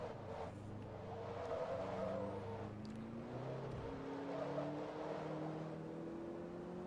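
Race cars in Forza Motorsport 2 at Laguna Seca drone steadily through a continuous engine whine, with rising and shifting pitch as they accelerate and pass, no talking over it.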